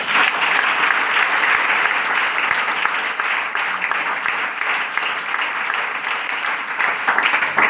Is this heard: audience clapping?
yes